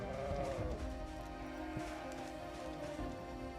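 Sheep in Project Zomboid bleat a few times over a steady wash of in-game ambience that sounds like rain, moderately loud, with no voices.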